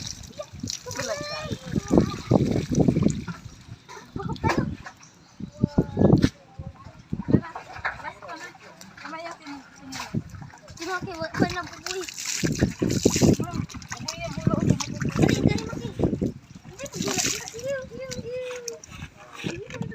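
Buckets of water splash and pour during a bath at a house by a white sand beach in the Philippines, with repeated splashes in bursts and a voice and adult chatter running throughout.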